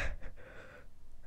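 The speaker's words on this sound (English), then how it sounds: "Why was he breathing so hard?" A person breathes hard and close to the recorder, with a sharp gasping inhale followed by rough, raspy breaths and snorting exhales, fairly quiet with no speech.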